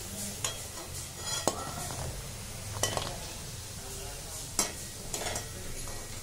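Sabudana vadas frying in hot oil, a steady sizzle under repeated metallic clinks and scrapes of a utensil against the pan.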